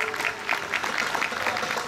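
An audience at a fiddle festival applauds bass player Slick Scott Carl, a short burst of dense, even clapping from a nearby crowd.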